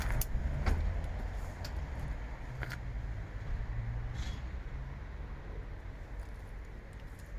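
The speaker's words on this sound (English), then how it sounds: "Push the button to lower the tailgate." The power tailgate of a Ford Kuga ST-Line X lowers with a low, steady motor whir, preceded by a couple of sharp clicks, all fairly quiet with no voices.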